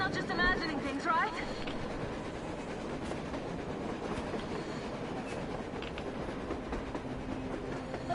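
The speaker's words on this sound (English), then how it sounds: "A train! A damn train on the surface!" Train passing in the video game Metro Exodus, a steady rail rumble with clattering wheels sustained throughout, while agitated voices talk over it.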